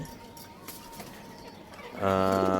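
Racing pigeons with leg rings, some of them Maxi males, give a low, throaty coo near the end of a short stretch of soft background rustle and murmur.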